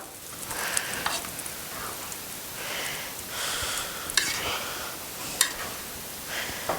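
A steak sears with a butter base on a Blackstone griddle, giving a steady hiss and sizzle broken by occasional sharp spatters and scraping touches. No voices are heard.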